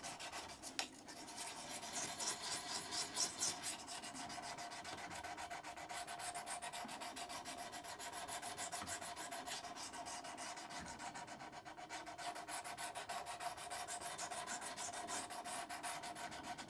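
A draw knife bevel is sharpened with diamond paddles, giving a steady, continuous rasping rub with a rhythmic back-and-forth scrape, close and alone.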